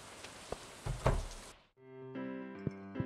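Rain in Stardew Valley, a soft hissing patter that cuts out abruptly partway through, followed by a brief melodic game chime with tonal notes; no speech.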